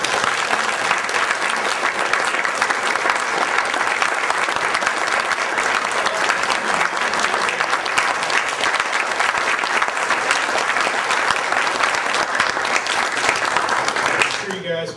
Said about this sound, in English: It's time to give him a round of applause.